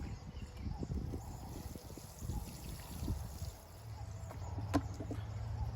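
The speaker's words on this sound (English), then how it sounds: "Then I'm just going to add a little bit of water to the pot." Water poured into a plant pot of soil while planting corn seeds, a soft, faint trickle and dribble in short irregular bursts close by, with light handling noises.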